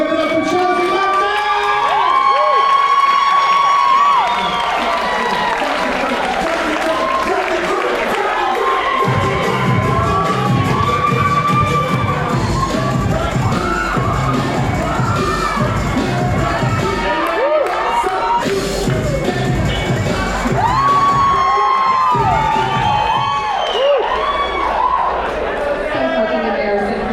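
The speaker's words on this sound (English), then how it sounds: "Let's have a roar. Dania Beach Bubble, clap it up, give it up for Chelsea Moxon!" A comedy club audience at the Dania Beach Improv cheers, whoops and applauds loudly and continuously for a comedian taking the stage, with the announcer's amplified voice running over the crowd noise.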